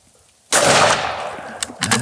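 A single loud, close 1885 Winchester rifle shot cracks out on a target range, then a long reverberant tail, with a couple of faint clicks and knocks as the tail fades.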